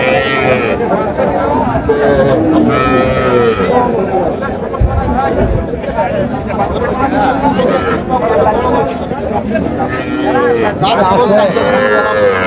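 Cattle, including Sahiwal cows and calves, moo among a crowd of constant chatter and shouting at Ambari cattle market in Dinajpur, a busy, noisy gathering with lowing animals mixed into the voices.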